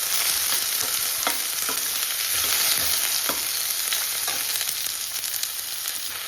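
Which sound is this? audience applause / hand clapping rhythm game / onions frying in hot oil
onions frying in hot oil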